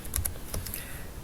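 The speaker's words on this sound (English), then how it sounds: "Simply type that name into the field in the center of the box." Keys tapped on a computer keyboard while a collection name is entered, a short run of crisp clicks, close and moderately quiet with no other sound.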